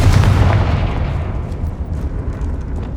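Bombarda and Confringo spells explode in the video game Hogwarts Legacy inside a goblin mine, a loud close boom that rumbles and fades over a few seconds.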